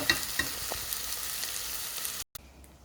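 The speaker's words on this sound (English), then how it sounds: "Now I'm going to add all the spice to my onion." Onion frying in a pan with spices and chatpati masala, a continuous close sizzle with a few faint taps, briefly cut to silence near the end.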